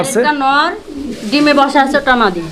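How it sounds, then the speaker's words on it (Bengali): A pair of Mundian pigeons coo close by in a loft, with a few rolling, throaty calls rising and falling over roughly two and a half seconds, fairly loud. "আমরা দেখাচ্ছি আরও এক জোড়া মুন্ডিয়ান কবুতর"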